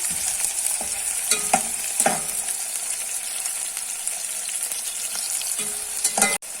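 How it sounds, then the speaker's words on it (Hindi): Onion sizzles steadily in hot oil while a spoon stirs and scrapes against the pan several times. "अभी 1 प्याज, इसे हल्का सा फ्राई करना है"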